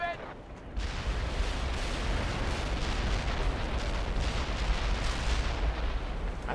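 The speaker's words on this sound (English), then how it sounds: "I just heard a lot of explosions." Dense, continuous rumbling explosions and battlefield fire in World in Conflict, starting abruptly after a brief quieter moment and staying loud throughout.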